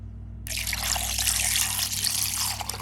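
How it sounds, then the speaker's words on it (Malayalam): Water pours steadily into a carrot juice mixture after a brief silent start, a continuous close trickle and splash that holds through to the end. "ഇനി ഇതിലേക്ക് ആവശ്യത്തിനുള്ള വെള്ളം ഒഴിച്ചു കൊടുക്കണം"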